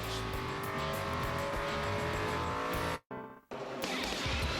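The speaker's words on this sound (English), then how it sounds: "Final practice for the NASCAR Sprint Cup Series cars." NASCAR Sprint Cup race cars during final practice at Watkins Glen in 2008, engines howling steadily at high revs, then a brief cut to near silence before the engine roar returns.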